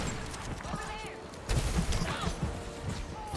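Doomfist throwing punches and firing in Overwatch 2: dense, overlapping metallic impacts and rapid gunshots crash together at close range, growing heavier partway through over a constant busy game backdrop.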